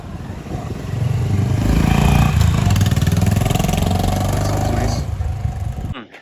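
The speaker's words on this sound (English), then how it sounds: "They have actually engineered the exhaust to sound good in such a way that it sounds like a Royal Enfield" A Honda H'ness CB 350 motorcycle's exhaust gives a loud, steady thumping engine note that builds and holds for several seconds, then cuts off sharply at the end.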